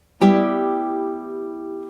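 A single strummed guitar chord rings out sharply, then sustains and slowly fades, alone and close.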